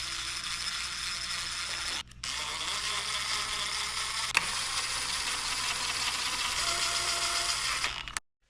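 A ratchet torque wrench tightens bolts on a 2025 Honda CRF250R Works Edition. The rapid, loud, continuous ratcheting clatter pauses briefly once, then runs on before stopping abruptly.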